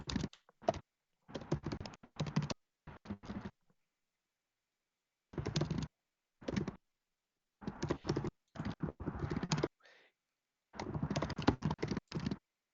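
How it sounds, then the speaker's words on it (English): Computer keyboard typing comes through a call as clustered bursts of rapid key clacks separated by silent gaps, fairly close and clipped, with no talking. "I'm getting some keyboard sounds from you."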